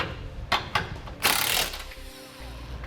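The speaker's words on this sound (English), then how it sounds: "Now we'll tighten down all of our hardware" Ratchet wrench clicks tightening flange nuts on carriage bolts while a Curt trailer hitch receiver is installed on a 2018 Chevrolet Silverado: a few sharp clicks, then a longer burst of close mechanical ratcheting with no talk.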